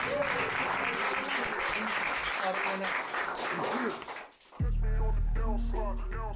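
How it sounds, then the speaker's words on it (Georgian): Applause at an MMA press conference, a sustained crowd clapping with voices mixed in, then a brief dip before talk resumes over a loud hall. "აპლოდისმენტები."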